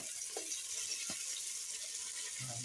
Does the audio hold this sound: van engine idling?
no